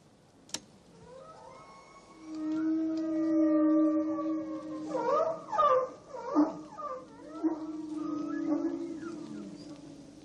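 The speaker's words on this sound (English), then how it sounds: "The whale sounds you are now hearing contain wavelengths that can travel not just across one ocean basin" Orca vocalizations: a sharp click, then long, drawn-out tonal calls with rich harmonics that slide and waver in pitch, breaking into a run of rapid pulsed squeals before fading.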